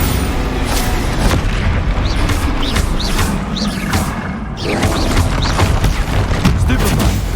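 Confringo and Bombarda spell explosions in Hogwarts Legacy combat: continuous loud rumbling booms and blasts layered over dense game noise, with a short lull midway before the roar returns.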